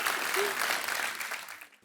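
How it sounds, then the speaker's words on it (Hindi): Studio audience applause on a Hindi comedy talk show, a steady wash of clapping from a crowd, moderately loud and fading out near the end. "आपकी जोरदार तालियों के लिए"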